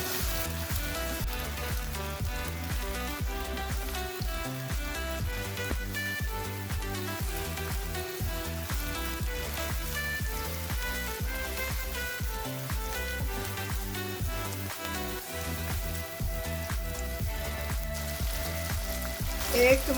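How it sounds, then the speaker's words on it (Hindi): Chopped onions sauté lightly in a hot pan for a paneer kulcha filling, making a steady, even sizzle with small crackling pops that runs on without a break and without talk. "प्याज को हल्का सा सौटे करेंगे।"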